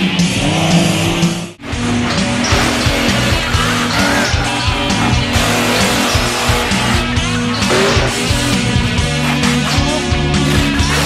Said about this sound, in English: Time for the final round of the stock class tough trucks here at Brookville, Pennsylvania.